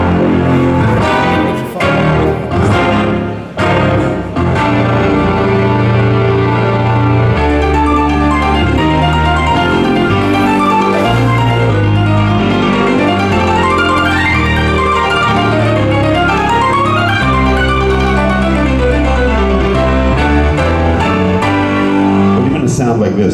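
A layered synthesizer keyboard patch nicknamed the pig, mixing in some piano, plays loud sustained chords and moving melodic lines with a few sharp percussive hits at the start, continuous throughout.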